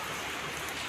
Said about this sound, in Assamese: এইফালে চব বতৰ বৰষুণ দি আছে একদম চিপ চিপ চিপ চিপকৈ পূৰা